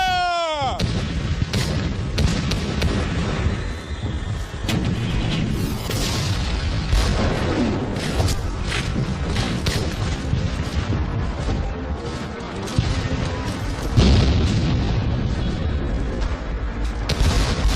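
Cannon fire in a battle, a dense, loud, continuous barrage of booms and crashes with no clear gaps, opening with a shouted command.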